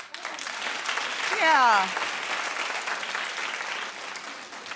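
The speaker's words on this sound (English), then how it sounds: "Clap if that wasn't your song." A studio audience on a daytime TV talk show claps steadily for about five seconds, swelling briefly near the start, with a short spoken word over it.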